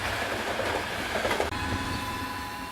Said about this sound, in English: A stop was made at Galanta to allow an express from Prague to Budapest via Bratislava behind a Czech Railway Class 380 capable of 125 miles an hour to pass